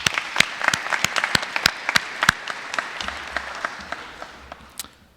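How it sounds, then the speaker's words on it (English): An audience applauds honor society inductees at a business honors induction ceremony, with steady, dense clapping that starts strong and gradually thins and fades over about five seconds. "Let's give them a round of applause."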